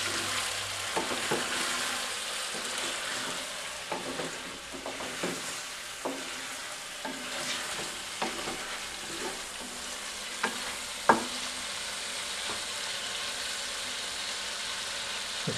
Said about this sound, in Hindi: अब इसके अंदर हम 120 ग्राम टोमेटो काटे हुए हैं वो शामिल करते हैं और शामिल करने के बाद इसको मज़ीद भूनना है